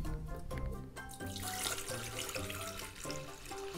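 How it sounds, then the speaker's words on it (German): Water is poured into a container after its lid is opened, a continuous splashing, gurgling stream heard close up with no talking. "Als nächstes öffne ich den Deckel und schütte Wasser rein."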